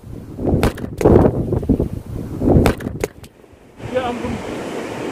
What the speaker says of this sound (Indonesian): angin kencang menjatuhkan kamera saya.